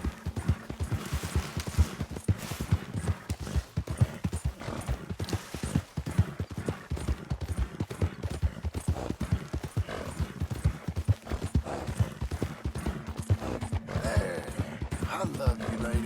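Horse hooves clip-clop in a quick, steady rhythm throughout in the video game Red Dead Redemption 2, close and continuous, with occasional faint voice-like sounds in the background.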